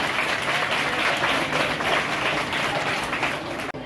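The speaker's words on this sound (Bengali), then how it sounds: "সকলে মিলে আরো একবার জোরে হাততালি হয়ে যা।" A stage audience at a theatre festival gives loud, sustained applause. The dense clapping holds steady for several seconds, eases slightly and then cuts off abruptly.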